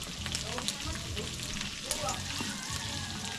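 Cooking oil in a frying pan crackling and sizzling, a steady bright hiss dotted with sharp pops and spits, close and continuous, with faint voices in the background.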